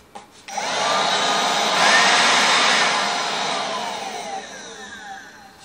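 A SEYVUM 20V cordless battery leaf blower (5.0 Ah, two-speed, 320 CFM) runs up from a click into a steady, loud broadband whoosh that swells slightly and then eases, with no one talking.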